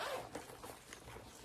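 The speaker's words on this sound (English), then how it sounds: "So we've got the zipper here." Zipper on a blue airplane-print toiletry bag drawn open up close, a short rasping run of zipper teeth, with a dog faintly heard nearby.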